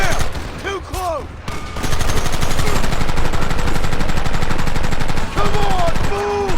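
Rapid gunfire from Red Dead Redemption, a Wild West game: dense, loud bursts of shots crackling steadily through a fight, with shouting voices over the volleys at the start and end.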